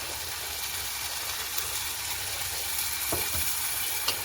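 Green beans sauté in a pan as tamarind water is poured in and stirred, giving a steady, close sizzling hiss with a few soft scrapes and no voices.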